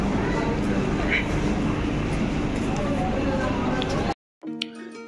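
A Sealdah–Lakshmikantapur local train waits at platform 21 of Sealdah station, a dense rumble and crowd noise filling the platform with voices mixed in, before the sound cuts out abruptly.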